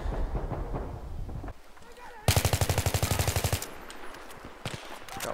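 Gunfire in the Battlefield 3 video game: a tight, rapid automatic burst of about a dozen shots in the middle, with quieter firing and game noise around it and a voice talking near the start.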